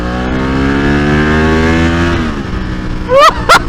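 A 1995 Ducati 916 sports motorcycle revving while ridden, a loud close engine drone that climbs in pitch, drops off, then surges again in sharp bursts near the end.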